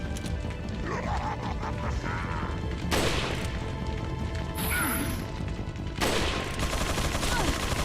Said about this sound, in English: I do have a couple rifle shots.